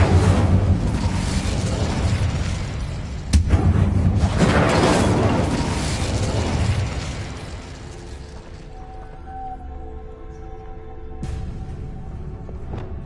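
Incendio fire spell cast in Hogwarts Legacy on PS5, a loud sustained fiery roar and whoosh with a sharp burst partway through, fading into a quieter magical shimmer and tonal hum.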